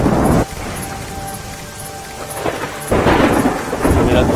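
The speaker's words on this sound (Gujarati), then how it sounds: "નડિયાદ જિલ્લામાં સતત 2 દિવસથી અવિરત વરસાદ" Heavy downpour with rolling thunder during a monsoon storm in Gujarat, a dense steady roar of rain broken by loud, close thunder rumbles at the start and end, with no voices.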